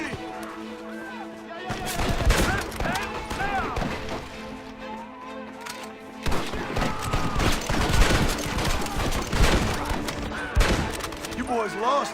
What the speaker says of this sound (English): Keep pushing! Stop shooting at me!